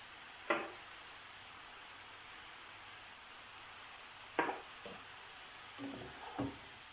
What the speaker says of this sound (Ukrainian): Шампіньйони та цибулю нарізаємо кубиками, смажимо на соняшниковій олії до м'якості цибулі.